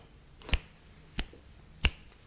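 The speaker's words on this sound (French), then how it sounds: "je vais faire encore des petits claquements de doigts de suspense" Three sharp, close finger snaps spaced evenly about two-thirds of a second apart, crisp and isolated against a quiet background.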